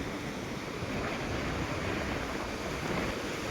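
Rough sea waves break at Old Digha beach in a dense, continuous rush of surf mixed with wind buffeting, loud and close with no voices.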